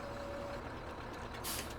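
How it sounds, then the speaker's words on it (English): A truck's air brake is set in Farming Simulator 17, a short hiss bursting out near the end over a steady low engine drone, with a faint warning beep early on. "Set the brake, and we're done."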